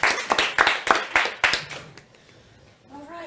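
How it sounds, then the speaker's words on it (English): Scattered claps from an audience at a live event, a handful of sharp hand claps over the first second and a half that quickly thin out and fade to quiet. "Let's give them a big round of applause."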